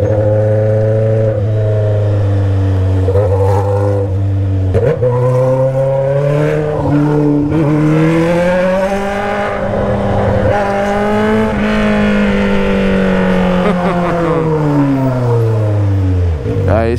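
Loud, close Honda Hornet motorcycle with an Atalla 4-into-1 exhaust. The engine holds a steady roar, with rev blips and throttle swells rising and falling.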